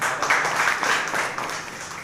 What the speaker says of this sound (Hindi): मैम के लिए जोरदार ताली से